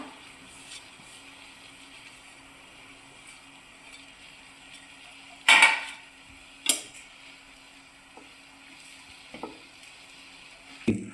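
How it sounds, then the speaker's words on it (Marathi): Grated coconut dry-roasting in a hot frying pan gives a faint steady hiss, broken by a few sharp scraping clicks of a spatula, the loudest near the middle and the rest soft and sparse. "आता आपण खोबरं चांगलं भाजून घेऊया।"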